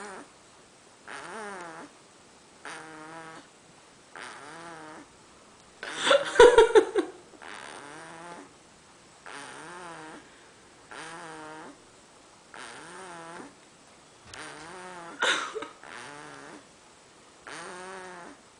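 A baby boy sleeps after drinking milk, snoring in a steady rhythm of soft breaths repeating about every second, with a couple of louder snorts midway; close and alone.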